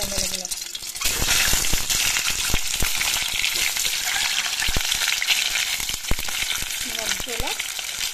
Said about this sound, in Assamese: ইয়াতে এতিয়া কণীকেইটা ফ্ৰাই কৰি ল'ব লাগিব